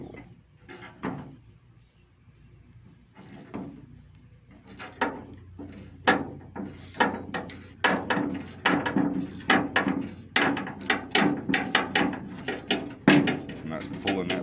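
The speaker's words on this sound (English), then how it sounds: "you just tighten your bolt down, and it will pull it out of that wrench" A ratchet wrench turning a bolt to draw a stuck brake caliper guide pin out of a wrench socket, a run of sharp metallic clicks in uneven strokes that come faster and louder in the second half.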